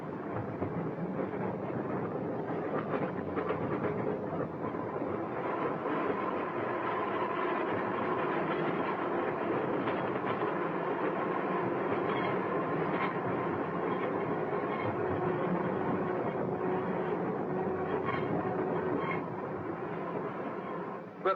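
A train runs along a straight stretch of track, giving a steady, moderately faint rumble with light rhythmic rattling and no voices.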